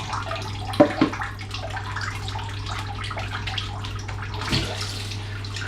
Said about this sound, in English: wash my hands in hot water